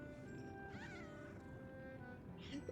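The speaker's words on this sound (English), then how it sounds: "I present to you a kitten." A kitten gives a thin, faint meow with another brief cry near the end, over a steady low background hum.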